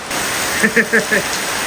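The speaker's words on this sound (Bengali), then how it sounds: "ভালোই বৃষ্টি চলে আসছে" Steady rain pours down in a dense, even hiss, with a few brief voice-like sounds rising near the middle.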